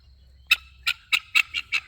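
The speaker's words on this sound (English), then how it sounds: "Guinea birds told me they're hungry." Guinea fowl give six harsh, rasping calls in a quick irregular series, close and fairly loud against a quiet evening background.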